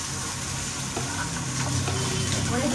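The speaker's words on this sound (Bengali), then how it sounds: "এই মাছের মাথা মুড়োগুলো খুব ভালো করে কালারিং করে লাল লাল করে ভেজে নিচ্ছি" Fish heads frying in hot oil until reddened, a steady close sizzle with faint stirring and occasional scrapes, continuous and fairly soft throughout.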